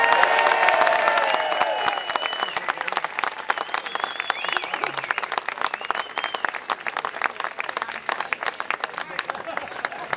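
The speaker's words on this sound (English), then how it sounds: "Please give a big hand to Ellen Sauerbrey." Crowd at a political rally bursts into applause and cheering for a speaker's introduction, loud at first with some shouts, then settling into steady, slightly fading clapping.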